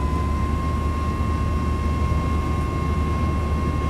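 Boeing 737 MAX 8 jet engines spooling up for a takeoff roll on a runway, heard as a steady, loud, broadband roar with a constant whine running throughout, no talk over it.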